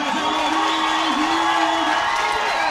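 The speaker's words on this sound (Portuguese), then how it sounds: "A galera aplaude, a galera vaciona." A crowd cheers and applauds loudly and continuously at a footvolley grand final, a dense wall of voices with whoops rising over it.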